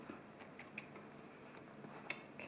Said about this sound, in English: make sure you go back to the beginning to cut your tail threads off